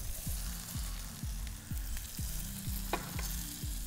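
Garlic frying in a little olive oil in a pan while a sauce is being started, a steady sizzle with regular low scraping strokes of a utensil and a few brief clinks.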